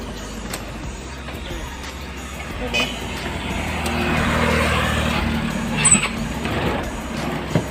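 A Motorstar Easyride 150 motorcycle on a road test, its engine running steadily nearby and swelling slightly as it rides, with a brief sharper burst near the end and voices talking over it.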